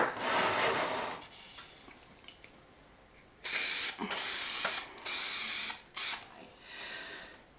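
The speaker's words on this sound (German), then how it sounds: "Du kannst einen herkömmlichen Sprühlack nehmen." Lacquer sprayed from an aerosol can onto a paper vase: a soft rubbing hiss at first, then four or five loud, close bursts of spray, each lasting about a second, with short gaps between them.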